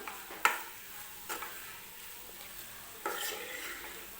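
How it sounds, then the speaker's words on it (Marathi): Capsicum sabzi with crushed peanut powder and coriander fries quietly in a pan, with a few scattered stirring scrapes and a sharp utensil knock near the start over a soft sizzle. "शेंगदाण्याचं कूटसुद्धा या भाजीसोबत परतून घ्यायचं आहे वरून थोडीशी कोथिंबीर टाकते आणि भाजी छान अशी मिक्स करून घेऊया"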